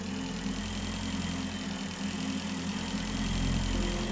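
In the video game Breathedge, a spacecraft engine gives off a steady, loud, dense droning vibration with a low rumble that runs unbroken throughout, with no voices.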